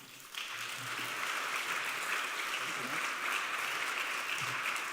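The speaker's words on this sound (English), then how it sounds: "Another round of applause for Mark." Audience applause for the mayor at a civic 200th anniversary talk, a steady dense wash of clapping that holds at even loudness for several seconds, with low murmur or a voice faintly underneath.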